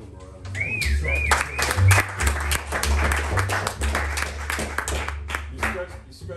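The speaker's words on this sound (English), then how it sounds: "Can we give him a round of applause?" Audience applause in an intimate live jazz venue, the Lilypad, greeting a guest musician with steady clapping over a low sustained hum and a few rising whistle-like tones.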